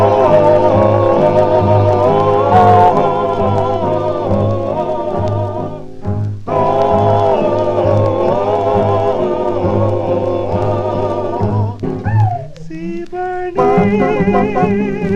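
A 1949 78 rpm record of a vocal group song plays steadily and loudly, with harmonized voices over a backing rhythm and a brief break near the end.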